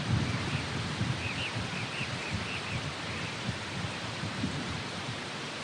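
Tropical rain falls in a heavy, even hiss during the wet season, while deep thunder rolls low underneath, strongest early on, all steady and without any voices.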